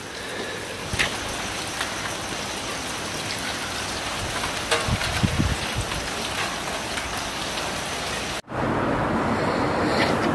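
Rain pours steadily through the night at around two in the morning, a dense, even hiss of drops on surfaces that is loud and continuous, with a few faint knocks and no voices.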